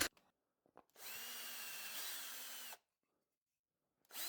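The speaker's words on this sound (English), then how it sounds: "So I take my step bit out and drill them." A power drill with a step bit bores holes in scrap wood, a close, loud whirring burst of about two seconds between short quiet gaps, then starting again at the end.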